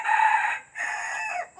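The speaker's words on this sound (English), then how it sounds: "one of the roosters is Big Mouth down there" A rooster, one of several young roosters kept with silkie chickens, crows loudly and close by in one drawn-out call, alone with no talk.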